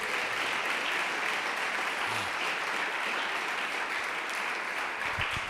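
A large congregation at a church gathering applauds in praise, a dense, even wash of clapping that holds steady at moderate level for several seconds with no break.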